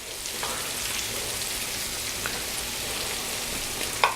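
Steady frying sizzle and crackle of sweetbreads in hot canola oil, even and continuous, with a couple of brief clicks.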